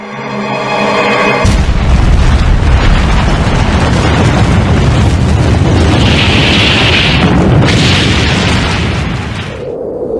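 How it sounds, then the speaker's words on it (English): Explosion of the first atomic bomb ever dropped: a sudden, massive blast hits after a moment of quiet, then a long, loud, rumbling roar with hissing bursts that sustains for several seconds before cutting off. "The first atomic bomb that was dropped here."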